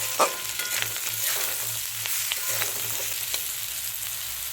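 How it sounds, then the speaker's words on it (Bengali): Potatoes and onion sizzling in a pan with salt, turmeric and chilli powder, a steady close frying hiss with occasional stirring scrapes and no talking. "পরিমাণ মতন লঙ্কা গুঁড়ো ভালো করে ভেজে নেব"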